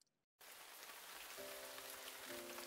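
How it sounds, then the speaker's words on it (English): Rain starts falling after a brief silence and quickly becomes a steady, dense patter of drops hitting a surface, with faint tones in the background. "At that moment, I catch the sound of dripping water."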